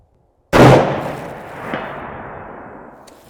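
A single long-range rifle shot fired outdoors, a sharp loud crack followed by a long rolling echo that decays over a few seconds, with a faint distant impact pop near the end.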